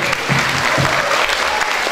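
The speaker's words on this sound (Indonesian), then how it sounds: "Mari tepuk tangan untuk Pak Murray" A seminar audience at an international cyber campus workshop in North Sumatra claps for a speaker in a short burst of loud, close applause lasting about two seconds, with a faint voice underneath.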